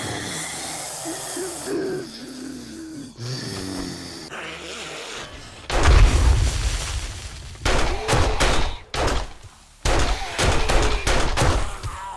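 Gunfire rings out as zombies are shot in 7 Days To Die, dense volleys in several loud bursts with short pauses between them, following a quieter stretch of ambient game sound.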